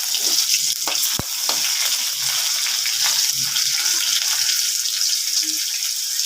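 Chopped onions sizzle steadily in hot oil in a wok, a continuous bright frying hiss with occasional faint clinks and stirring knocks.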